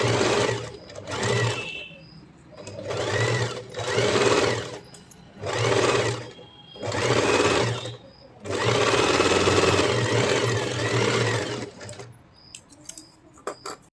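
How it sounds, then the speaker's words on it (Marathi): Electric sewing machine stitching the neckline and waist of a blouse back piece, running in several loud bursts of steady whirring separated by short pauses, with one longer continuous run near the end. "कमरेला शिलाई मारून झाल्यानंतर लगेचच आपण गळ्याला ही शिलाई मारून घ्यायची"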